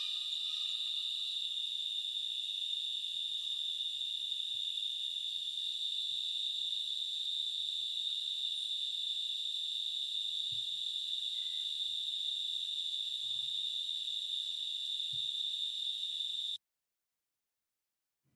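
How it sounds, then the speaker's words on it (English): Outdoor insects chirp in a steady, high, continuous drone that runs unbroken for most of the stretch before cutting off abruptly near the end, with faint low rumbles and thumps underneath. "The bugs are kind of unbearable"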